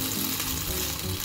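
Round tofu and crab stick patties with shiso leaves sizzle steadily in a frying pan, a dense even hiss throughout the short moment.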